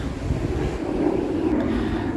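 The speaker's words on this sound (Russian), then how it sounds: "И вот сейчас полетел не такой большой самолет" Small airplane taking off from Sochi airport in Adler, heard as a steady broad roar with wind buffeting the microphone, fairly loud and continuous throughout.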